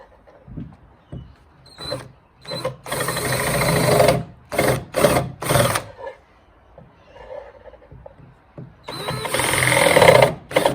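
A power drill bores a line of holes through a paddle board deck, running in loud, close bursts of whirring that start and stop repeatedly, with brief quiet gaps between holes.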